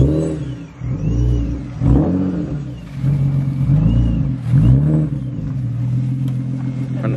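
Engine revs from an Infiniti G35 fitted with a Vortech supercharger, several rising and falling throttle blips close by, with faint talk in the background between revs.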